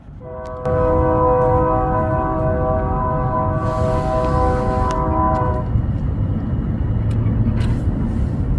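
A BNSF freight train on the old Santa Fe Railroad line in New Mexico sounds a long, loud chorded horn for several seconds, then rumbles steadily past as a heavy, continuous roar of rolling cars.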